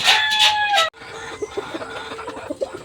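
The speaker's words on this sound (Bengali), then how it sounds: "যে পাহাড়ি মুরগিগুলো আমি আপনাদেরকে দেখাইছি" A rooster crows loudly up close and cuts off abruptly, then softer clucking and scattered calls from crested hill chickens continue in the background.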